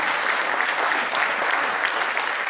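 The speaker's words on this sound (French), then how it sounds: "Encore des applaudissements pour cette magnifique" An audience at a French-language DailyFX technical forecast presentation claps steadily and densely, a continuous wash of applause filling the whole short stretch with no voices over it.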